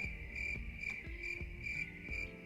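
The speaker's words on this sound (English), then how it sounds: "Oh, crickets?" Crickets chirp in a steady pulsing rhythm, a high continuous trill with soft low thumps underneath.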